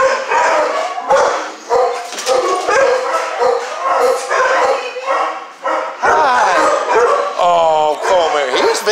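A hound dog at a county dog pound barks, yips and whimpers in loud, close, drawn-out howling cries that continue without a break, with human voices mixed in.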